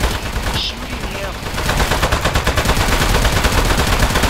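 Rapid video game gunfire aimed at a boss in Aperture Desk Job, dense loud repeated shots building into a steady fast stream with a faint voice underneath.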